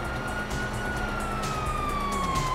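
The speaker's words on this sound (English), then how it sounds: "Oh, fuck, you hear that? Sirens!" Police sirens wail in the GTA 5 video game, a steady rising and falling tone over dense game noise and engine rumble, fairly loud throughout.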